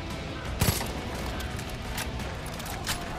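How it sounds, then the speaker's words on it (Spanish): Gunfire in the video game Far Cry 5: a couple of sharp shots ring out amid dense, noisy in-game ambience, with no clear talking. "Buen disparo."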